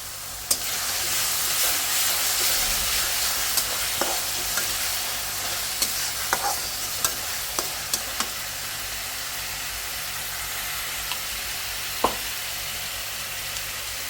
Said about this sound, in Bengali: মাছটা আচ্ছা, একটু ভালোভাবে কষাই নিই আদাটা আর এটা কষাই নিছি